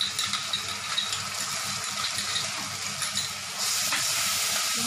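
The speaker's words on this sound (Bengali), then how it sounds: "এখন দইটাও দিয়ে দেব" Beaten yogurt poured into spice masala frying in ghee in a pan, giving a steady loud sizzle and hiss with stirring scrapes, the sizzle swelling brighter near the end.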